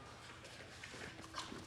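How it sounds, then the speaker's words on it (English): A dog makes a few brief, soft sounds, faint and close, over a low, steady background hiss. "Is that the dog?"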